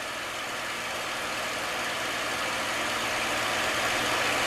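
P-51 Mustang piston engine with the throttle pulled back for slow flight: a steady, loud, droning engine hum that holds constant throughout with no other sounds.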